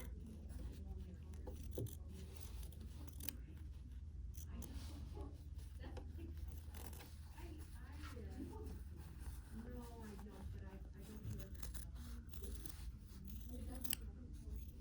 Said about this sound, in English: cutting your little heart out like so